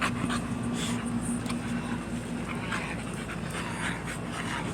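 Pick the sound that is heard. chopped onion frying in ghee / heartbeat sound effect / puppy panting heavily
puppy panting heavily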